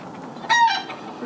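A hen, one of a flock with large combs, gives a single short cluck, close and fairly loud against a quiet background.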